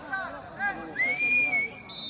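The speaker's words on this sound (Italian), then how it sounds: "C'è il fischio dell'arbitro." Referee's whistle blown before a penalty kick at an under-17 youth football play-off match in Palermo, a thin sustained tone over crowd babble and commentary.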